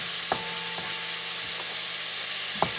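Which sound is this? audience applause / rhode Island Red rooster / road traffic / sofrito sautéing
sofrito sautéing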